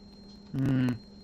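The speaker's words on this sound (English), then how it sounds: "Why is that beeping?" A single electronic alarm beep from The Stanley Parable: Ultra Deluxe, a steady buzzy tone lasting under half a second over a quiet game-room hum.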